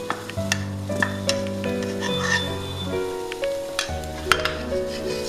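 A spatula scrapes and clatters in a pan while masala for an eggless egg curry gravy sizzles, with steady stirring strokes and a low humming tone underneath.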